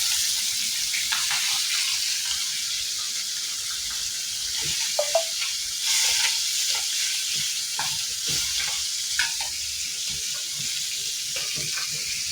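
Fish frying in a pan in a home kitchen gives a steady, close sizzle with faint clinks and stirring scrapes throughout, and no one speaks.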